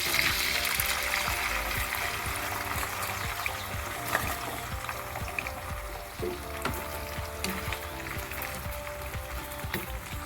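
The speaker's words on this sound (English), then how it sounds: "I'm going to put my potatoes in the oil to start frying them." Potatoes frying in hot oil for a Spanish omelette, giving a steady, dense sizzling hiss with scattered pops and crackles, close and continuous throughout.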